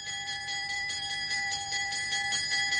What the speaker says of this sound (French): dès que la cloche aura sonné